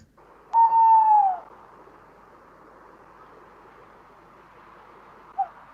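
A tawny owl lets out a single clear hoot, fairly near, followed by quiet forest background and a faint short sound near the end.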